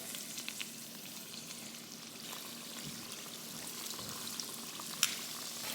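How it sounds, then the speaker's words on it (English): Oil sizzles and crackles steadily as egg rolls fry, a soft continuous bubbling with a few sharper pops. "And they should start frying right away"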